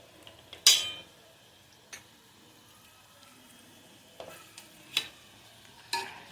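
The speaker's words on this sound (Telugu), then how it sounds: "ఈ రెడీ అయిన తాలింపుని అన్నంలో బాగా కలిసేటట్టు కలుపుకోవాలి" A spoon stirs and scrapes tempering into cooked moong dal khichdi in a pot, with a few sharp clinks spaced out over near-quiet moments.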